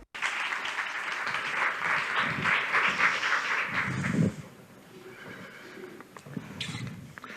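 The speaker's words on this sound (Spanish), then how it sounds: "Un fuerte aplauso para ella." An audience at a round-table conference on gender perspective in research applauds a speaker, a fairly loud burst of clapping lasting about four seconds before it fades into quieter room sound.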